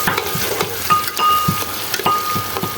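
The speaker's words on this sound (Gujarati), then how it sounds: "એટલે આપણે તળવા નાખી દીધા છે." Roasted eggplants fry in oil with a soft, steady sizzle. Regular stirring scrapes and small clinks sound throughout, with no talking.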